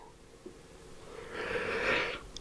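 A single deep, airy breath drawn in close by, rising in a long whooshing inhale, with no talking.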